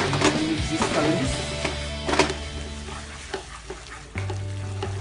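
Spaghetti is stirred with cream cheese and cheddar cheese in a hot pan, giving a loud, steady sizzle with scraping and stirring noises up close and a deeper hum near the end.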